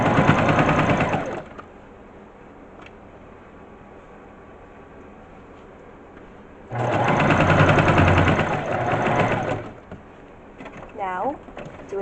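A sewing machine stitches fabric for a plush toy dog in two loud bursts, one at the start and a longer one later, with a quiet pause between and small handling noises near the end.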